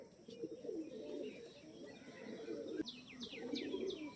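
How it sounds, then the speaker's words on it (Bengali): A pair of rare pigeons, a male and a female, coo softly and steadily at close range, with a run of thin chirps near the end over a faint room hum. "রেয়ার পায়রা।"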